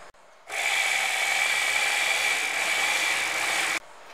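Sewing machine running steadily while stitching along the edge of a kurta with a zipper foot, a continuous close whirring hum lasting a few seconds, starting and stopping abruptly.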